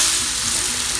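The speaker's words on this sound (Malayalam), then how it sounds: "ഇനി നമുക്ക് ഈ പഴം നെയ്യിൽ നന്നായി വഴറ്റിയെടുക്കണം." Ripe banana slices sauté in hot ghee, giving a steady, close, loud sizzle and crackle that runs evenly through the whole second with no voices.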